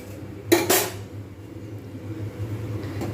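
Flattened rice (chira) frying dry in a pan while a spoon stirs it, with two sharp metallic clatters near the start and then a quieter scraping rustle, close by and without talk.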